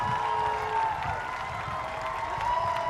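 A high school graduation crowd applauds parents and guardians, a steady wash of distant clapping and crowd noise filling a large venue for a few seconds.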